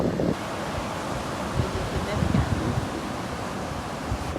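Gusty east wind blowing at Pawleys Island beach with one- to two-foot surf, a steady roaring rush of wind noise over the microphone with low rumbling bursts and the wash of waves beneath.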